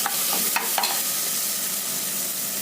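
Onion, tomato, curry leaves and turmeric frying in a pan, a steady sizzle with a few scraping stirs near the start, close and even with no voices.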